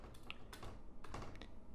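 Quiet keystrokes on a computer keyboard tap out a short burst of typing, several soft close clicks in quick irregular succession with no voices.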